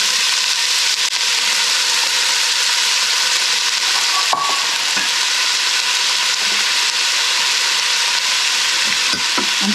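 Onions and potatoes fry in a pan with a steady, loud, dense sizzle throughout, broken by a sharp clink or scrape of stirring near the middle and a few soft knocks toward the end.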